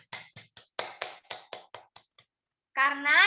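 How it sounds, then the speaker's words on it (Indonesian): A group of children gives a classmate a short round of applause in a classroom, the claps spaced out and loose, fading after about two seconds. A voice starts speaking right after. "Tepuk tangan buat Nesa."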